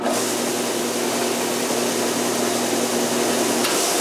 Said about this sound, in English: now we can cut the taper of the fingerboard